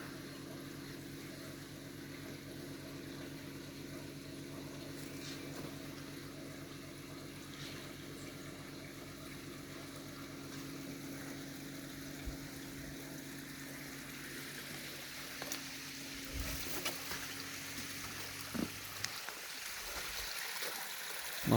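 An electric water pump motor hums steadily while pumping water through a hose into a house, with water flowing underneath; the hum cuts out near the end, leaving a few faint knocks.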